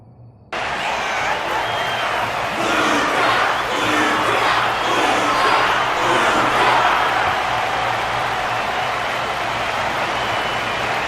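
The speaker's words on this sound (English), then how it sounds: "The audience's passion stays strong. Their constant applause is a salute to this resilient Belabogian fighter." A large arena audience in the Honkai: Star Rail game applauds and cheers for a Belabogian fighter, a steady dense roar of clapping and crowd noise that holds evenly throughout after a quiet start.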